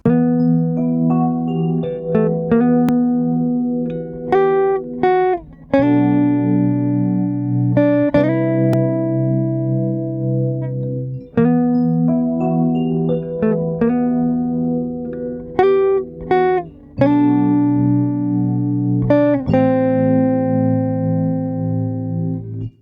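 A melody of bright picked notes rings out over sustained chords, played steadily in repeating phrases with no talking.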